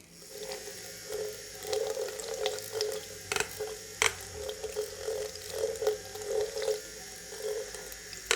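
Soapy water swirling in a spin brush cleaner while makeup brushes are washed, a soft rhythmic sloshing and bubbly churning in repeated pulses, close and quiet with no talk.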